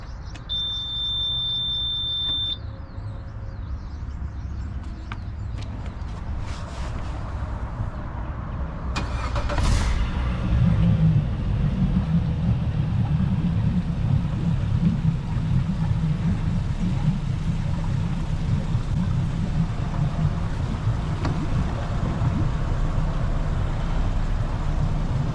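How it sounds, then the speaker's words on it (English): A brand-new Suzuki 90hp outboard boat engine fires up at a dock and runs steadily, its low engine rumble growing fuller after a few seconds and holding a constant drone with no voices. "we're gonna fire this engine up and let it run for 5 minutes right here at the dock"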